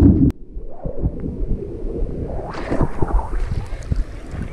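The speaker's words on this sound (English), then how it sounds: "so the waves are all weird" Ocean waves breaking over a shallow sandbar in heavy shorebreak, a continuous loud wash of surf and wind buffeting the microphone, with the roar swelling and hissing brighter about halfway through as a wave crashes.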